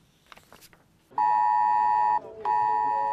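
A loud, steady electronic IT-Alert public emergency warning tone from a mobile phone sounds for about a second, breaks off briefly, then resumes, following faint background noise and distant voices.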